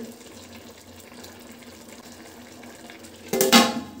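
Hot water poured onto the lid of a pot of chicken biryani set for dum, a sudden bright splashing burst near the end after a quiet low kitchen hum.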